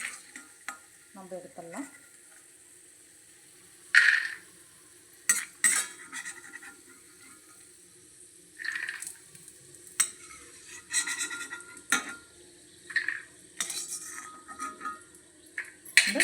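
Peanuts roasting in oil in a pan on low heat for Tamil coconut and lemon rice, with a soft steady sizzle, intermittent spoon stirring and metallic scraping against the pan, and a brief spoken line near the start.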